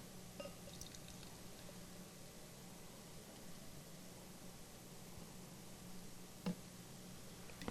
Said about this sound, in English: Let's try a pour.